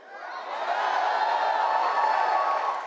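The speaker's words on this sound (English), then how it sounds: "Now, Atlanta, these crowds, they keep growing." A large political rally crowd in Atlanta, Georgia cheers and roars in a steady, sustained swell, loud and continuous throughout with no distinct voices standing out.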